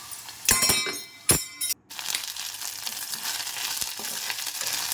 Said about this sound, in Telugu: ఇందులోనే కొంచెం అల్లం వెల్లుల్లి పేస్ట్ కూడా వేసి బాగా పచ్చివాసన పోయే వరకు వేయించుకుందాం